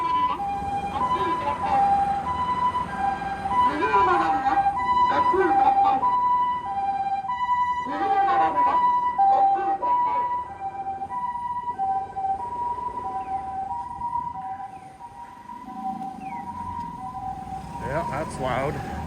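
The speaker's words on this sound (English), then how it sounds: "There's an ambulance." An ambulance siren wails in a city street on the way from Okamachi in Toyonaka toward Juso, a loud two-tone cry that rises and falls over traffic, fading at times and swelling again, with voices now and then.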